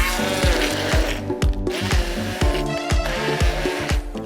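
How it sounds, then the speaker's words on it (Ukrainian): A blender purees peach and strawberry in a measuring cup, whirring loudly and steadily up close with a rapid pulsing rhythm and a few brief dips in pitch. "Також нам потрібна полуничка та будемо робити полуничне персикове пюре. Пробиваємо блендером."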